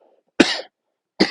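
Two separate coughs from one person recovering from pneumonia, close and fairly loud, with a brief silent gap between them and a faint trace of a voice just before the first.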